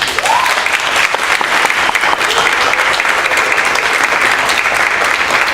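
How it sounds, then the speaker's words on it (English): A summit crowd in Atlanta, Georgia gives a loud, sustained round of applause for Canadian partners, dense clapping continuing steadily throughout. "give our Canadian partners a round of applause"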